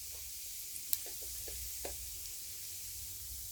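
Panch phoron whole spices fry in oil on a low-to-medium flame for raw mango pickle, giving a steady quiet sizzle with a few soft knocks and stirring taps.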